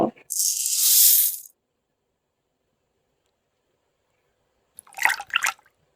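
Soaked red lentils drop into a pot of water. A bright, hissing splash lasts about a second, then a long silence, then a short rattling patter of grains near the end.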